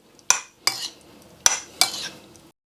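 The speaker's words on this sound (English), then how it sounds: "Give that a stir to work it into the king prawns" A utensil stirring king prawns in a marinade in a bowl, making four sharp clinks against the bowl at uneven intervals with brief wet scraping between; close and fairly quiet, no voices.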